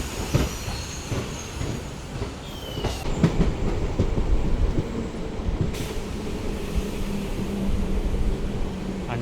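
Hydrogen-powered passenger train running on rails near Gohana Junction in India, heard from inside: a steady, rumbling roll of wheels with rhythmic clicks, a brief high squeal, and continuous low rattle throughout.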